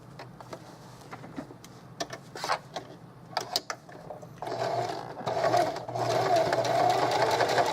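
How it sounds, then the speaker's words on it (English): A sewing machine stitches vintage lace for a snap bag, starting with a few light clicks and handling noises, then running in a steady close whirring hum for several seconds. "I'm going to pull my sewing machine over and stitch this up"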